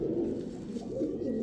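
Pigeon cooing close by, a low rolling coo repeated in two soft swells, alone without talk.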